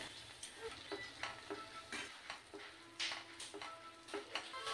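Spinach paste with sugar is being mixed in a pan, with a series of soft, irregular scraping and tapping strokes over a faint sizzle, quiet and close.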